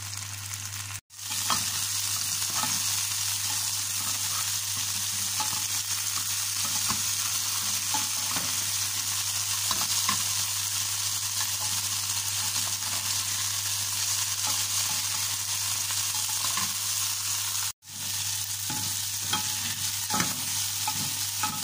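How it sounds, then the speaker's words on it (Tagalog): Mixed vegetables pan-fry until golden brown, giving a continuous loud sizzle and hiss with occasional stirring scrapes, steady throughout with two brief cut-outs and no talking. "Ipan-fry lang natin guys. Lutuin lang natin hanggang maging golden brown ang bawat sides."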